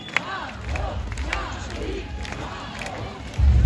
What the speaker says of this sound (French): un deuxième applaudissement pour lui